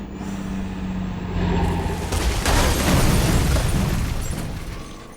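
An explosion in a Last of Us TV episode swells from a low rumble into a heavy, sustained roaring boom that fills the mix, then slowly fades.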